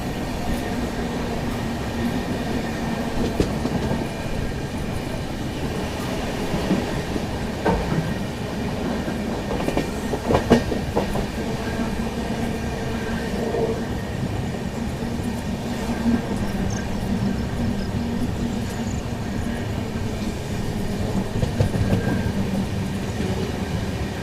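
The Subedarganj Dehradun Express rolls along steadily through heavy rain, with a continuous rumble and scattered clatter of wheels on rail heard from inside the coach.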